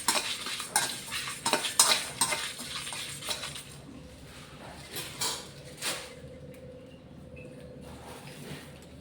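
Byadgi and Guntur dried red chillies are roasted in a pan on low heat, with a spoon scraping and stirring in bursts of clinks and rustles that grow sparse and quieter over a faint sizzle.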